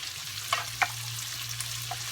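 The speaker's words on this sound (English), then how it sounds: "Now all of this is gonna cook in the bacon fat." Diced red onions frying in bacon fat, a soft steady sizzle with a low hum beneath and a few light clicks of a utensil stirring in the pan.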